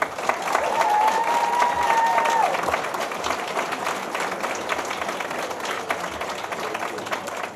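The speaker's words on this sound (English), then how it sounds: "Let's give it up for Jaden Struble." A crowd at an ice hockey fan festival applauds and cheers loudly for a Montreal Canadiens player. One short whistle cuts through early on, and the clapping stays strong throughout.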